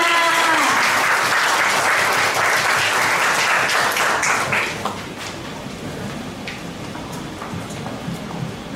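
A crowd at a Thai IT event applauds loudly and densely for several seconds, then the clapping drops to a lighter, scattered patter of remaining claps.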